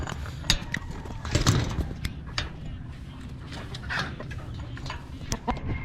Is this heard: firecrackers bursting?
no